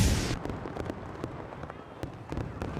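Fireworks burst at the opening of the Ice and Snow Festival in Harbin, Heilongjiang Province, China: a steady wash of crackling and popping with sharp individual bangs scattered throughout, heard from a distance.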